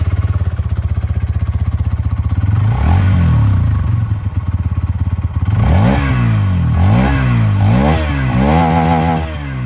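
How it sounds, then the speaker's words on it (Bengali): A Hero Xtreme 160R 4V motorcycle with a metallic muffler idles with a steady low exhaust burble, then is revved hard several times in quick succession, each blip rising and falling sharply, loud and close. "আর চলুন এবার আমি আপনাদেরকে যে এক্সস্ট সাউন্ডটা শুনিয়ে দিই। স্টার্ট করি উইথ এক্সট্রিম 160R 4V।"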